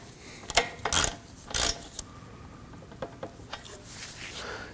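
A ratchet snugs down the bolts on a dual radiator and condenser fan assembly in a 2015-2024 Ford Edge 2.0L, giving short bursts of quick clicking with pauses between, close and fairly quiet.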